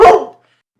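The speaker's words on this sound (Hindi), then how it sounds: "तभी सामने से एक काला कुत्ता आ जाता है।" A black dog in a cartoon lets out a single loud, close bark that cuts off sharply into silence.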